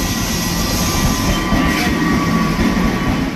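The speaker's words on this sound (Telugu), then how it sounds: "మనం వెళ్ళాల్సిన ట్రైన్ అయితే వచ్చిందండి. ఇదే రాజ్కోట్ సూపర్ ఫాస్ట్ ఎక్స్ప్రెస్." The Rajkot Superfast Express pulls into a railway station with a loud, continuous rumble of wheels and carriages and a faint metallic whine, steady and close throughout.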